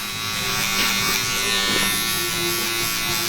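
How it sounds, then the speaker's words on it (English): An electric hair clipper buzzes steadily and loudly up close during a mid skin fade haircut, a continuous even hum with no talking. "I'm lowering down a little bit to more of a half setting on my clipper itself."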